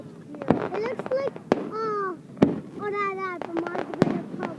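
Fourth of July fireworks over Hilo Bay burst in several sharp, loud booms spread across a few seconds, while children talk and call out excitedly in between the blasts.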